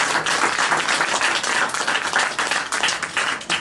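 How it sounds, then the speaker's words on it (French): Crowd applauding the members of a 2017 ecumenical film jury at a festival stand, dense steady clapping filling the whole stretch, fairly loud and close. "on peut les applaudir déjà très fort"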